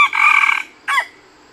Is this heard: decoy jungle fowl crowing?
yes